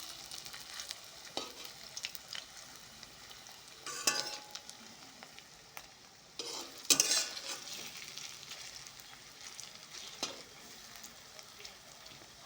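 Soybean veg pakoras, made without onion or garlic, frying in oil and being turned. A faint, low sizzle runs throughout, with scattered sharper scrapes and clatters from the turning, and a brief louder burst near the middle.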